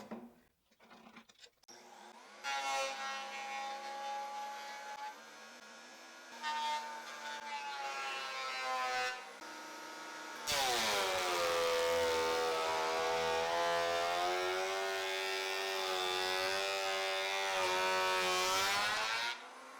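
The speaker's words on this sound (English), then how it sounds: "I will run everything through the planer, leaving it 20 millimeters thick" Wood planer feeding boards down to 20 mm thickness, loud harmonic whine that swells and drops as pieces pass through, with a heavier sustained stretch in the second half.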